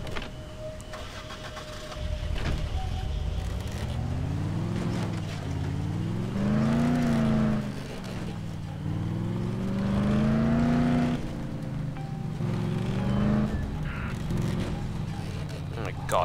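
A car engine in the zombie game Dead Island starts and drives, its hum rising and falling in pitch as it revs through several surges, loud and close, with people talking over it.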